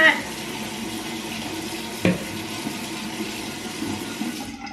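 A bathroom tap runs steadily while the water heats up, a continuous hiss of flowing water with one brief clunk partway through, close to the microphone.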